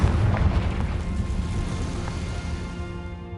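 A Confringo fire spell blasts in Hogwarts Legacy: one loud, booming explosion up close that rolls off into a long, fading rumble and hiss, with no one talking.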